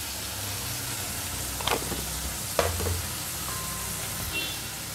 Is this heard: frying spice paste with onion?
yes